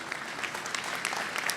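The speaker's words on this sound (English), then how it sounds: "Let's give her a round of applause." A crowd at a blockchain pitching event in Dubai applauds the youngest contestant, a brief, busy burst of many hands clapping with crisp individual claps standing out.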